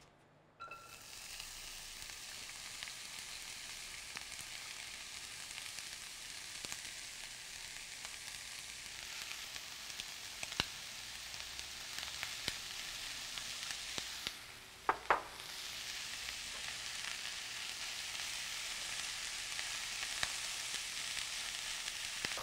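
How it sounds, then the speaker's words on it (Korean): Minced onion and green onion stir-fry in hot oil for a doenjang sauce, giving a continuous bright sizzle with a brief scrape or clatter of stirring partway through. "팬이 달궈졌으면 아까 다져두었던 양파랑 대파를 넣고 볶을게요."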